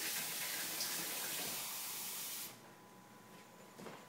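Cold water pours from a kitchen sink tap in a steady, bright hiss for about two and a half seconds, then the flow is shut off, leaving quiet room tone with a faint clink.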